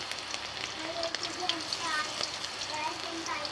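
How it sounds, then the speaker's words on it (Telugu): Green chillies and curry leaves fry in hot oil for cauliflower pakoda, giving a soft, steady crackling sizzle with faint voice traces underneath. "ఆయిల్లో వేసుకొని కాస్త ఫ్రై చేస్తున్నాం"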